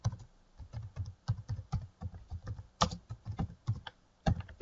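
Quick, uneven bursts of keystrokes clatter on a computer keyboard, close and crisp, with short pauses between runs of typing and a couple of louder key presses.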